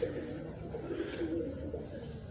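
Pigeons coo softly in a low, murmuring rhythm, several repeated throaty notes heard close by over a faint background hum.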